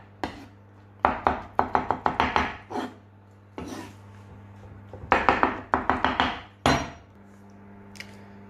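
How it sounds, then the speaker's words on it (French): Knife roughly chopping eggplant flesh on a board for a Lebanese moutabal, bursts of rapid, close thunking chops in quick runs separated by brief pauses. "je vais venir hacher grossièrement mon aubergine"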